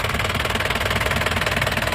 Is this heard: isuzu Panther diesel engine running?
yes